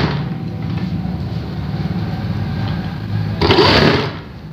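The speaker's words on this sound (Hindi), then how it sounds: "और फिर यहाँ से हम एक पैर की सिलाई शुरू करेंगे।" Sewing machine running steadily while stitching a zip pocket seam on a salwar, a continuous close mechanical whir that grows louder and busier near the end.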